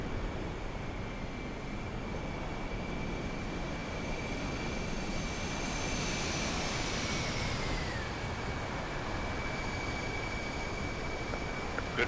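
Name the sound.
aircraft flyby over carrier deck in DCS video game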